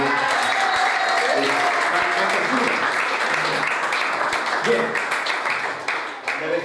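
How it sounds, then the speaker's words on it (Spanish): A live audience at a magic act applauds loudly and continuously after an egg trick, thick close clapping filling the whole clip with murmuring voices mixed in, easing slightly only at the end. "Aplausos."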